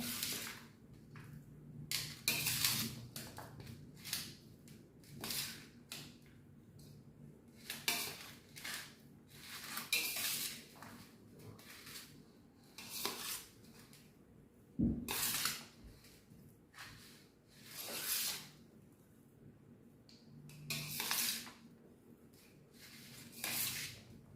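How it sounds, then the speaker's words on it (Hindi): A spoon scrapes and clatters around a bowl mixing aloo chaat with salt and vinegar, in repeated rhythmic bursts of stirring, close and moderately loud with no talking. "अब हम इसे मिक्स कर लेंगे।"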